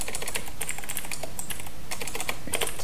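Rapid, steady typing on a computer keyboard at a PC, dense clicking keystrokes running continuously and close up with no voices.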